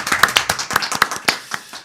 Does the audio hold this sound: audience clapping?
yes